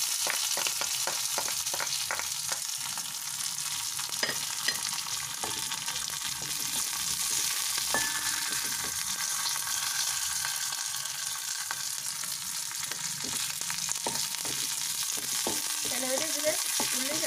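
Onion, green chilli and curry leaves fry in a pan with mustard seeds, giving a steady, close sizzle with scattered crackles and pops and occasional stirring clicks throughout.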